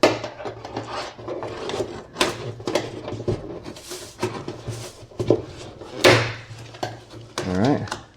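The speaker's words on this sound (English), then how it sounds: "take your panel removal tool and this center plastic trim piece, and go ahead and remove that" A panel removal tool pries a plastic trim piece out of a DE5 Acura Integra, giving scraping, rubbing creaks and sharp plastic clicks and pops in irregular bursts, close by, with someone talking throughout.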